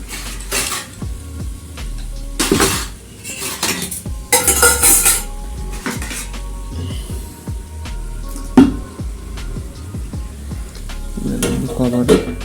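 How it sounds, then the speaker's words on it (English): A metal pot lid clatters onto a pan of chayote cooking over a low flame, among sharp clinks of cutlery and cookware and a soft sizzle, loud and close, with no speech. "Okay, and then cover the lid."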